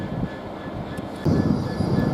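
Steady rumble of a CrossCountry Voyager diesel train at Doncaster station, the engine noise swelling noticeably louder partway through and staying close and continuous to the end.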